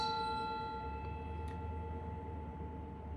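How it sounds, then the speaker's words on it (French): A small meditation gong rings out with a clear sustained tone that slowly fades over a few seconds, alone in a quiet room. "un petit gong, comme cela."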